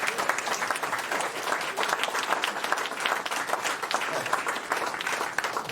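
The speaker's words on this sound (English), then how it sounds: "let's give Jimmy a round of applause" An audience applauds Jimmy, the speaker's son, at an emergency department dedication ceremony; fairly quiet, dense clapping rolls on steadily throughout with no voices standing out.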